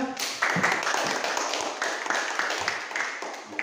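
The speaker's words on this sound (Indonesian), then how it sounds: "Silakan beri tepuk tangan kepada temannya." Students in a physical education class applaud a classmate's group after a presentation, giving a few seconds of steady, moderately loud clapping with a brief voice underneath.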